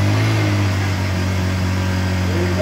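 A Honda EU1000i inverter generator converted to run on propane drones steadily and loudly up close, its throttle being feathered to hold a smooth, even note with slight wavering.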